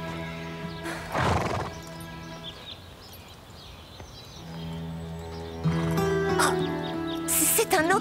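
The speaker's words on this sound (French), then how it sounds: "C'est un autre cheval?" A horse neighs loudly twice, near and sharp, with hoof clatter and movement between the calls, as a rider struggles to control the startled animal; people speak in brief exclamations.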